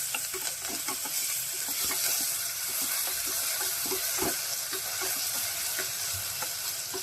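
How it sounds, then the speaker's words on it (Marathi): Dal and onion with curry leaves frying in a pan while being stirred, a steady sizzle with intermittent scraping stir sounds throughout, close and continuous. "एक कढीपत्त्याची डाळ टाकायची आणि आपण हे आता चांगलं हलवून घेऊ."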